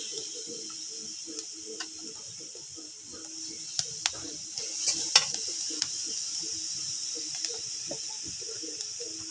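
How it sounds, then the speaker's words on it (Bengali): Onion and garlic paste with cumin paste fries in oil, a soft steady sizzle under repeated light stirring scrapes and a few sharp utensil clicks, close and fairly quiet, without speech. "মাছ আমার ভাজা হয়ে গেছে কমপ্লিট। আমি এখন হচ্ছে মশলাটা কষাই নেব।"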